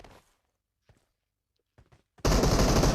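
Gunfire in the mobile battle-royale game PUBG Mobile: a few faint soft taps and thuds, then a sudden loud, dense burst of rapid automatic shots that runs to the end, close and continuous.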